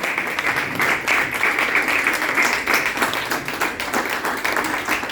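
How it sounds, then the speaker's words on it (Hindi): Enthusiastic audience applause after a plan presentation, continuous dense clapping from many people, loud and steady throughout with no pauses. "जबरदस्त तालियां एक बार"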